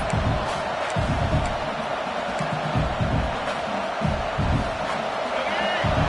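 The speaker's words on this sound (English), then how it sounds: "And the crowd coming to life here, trying to help this defense down in the red zone." A stadium crowd at a college football game in the NCAA 26 video game, a loud continuous roar from the stands with thumping bursts, under steady commentary speech.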